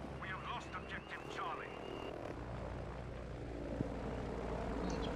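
Airplane engine droning steadily in a Battlefield conquest match, a continuous propeller hum under someone talking.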